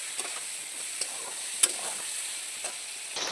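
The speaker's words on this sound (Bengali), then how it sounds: "দিয়ে আমি এই ঝিঙেটা দিয়ে আলুটা দিয়ে লঙ্কাটা দিয়ে সুন্দর করে একটু ভাজা ভাজা করবো" Ridge gourd, potato and green chili frying in oil in a pan, a steady soft sizzle with occasional scraping stir clicks, no voices.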